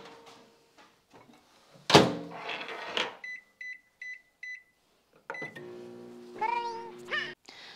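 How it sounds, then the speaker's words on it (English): A kitchen microwave oven runs with a steady hum, then sounds a series of short electronic beeps as it finishes, with a door clunk and a cat meowing nearby. "And then it says to microwave it for 1 minute"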